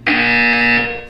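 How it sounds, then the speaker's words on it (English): A harsh electronic buzzer from the Portal video game sounds once, a steady loud tone held for about a second before fading slightly, with no voices. "You will hear a buzzer."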